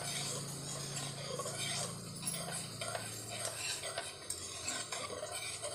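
Hapus mango pulp is mixed into lukewarm milk for mango ice cream, with a spoon stirring steadily and scraping softly against the vessel, close by and fairly quiet.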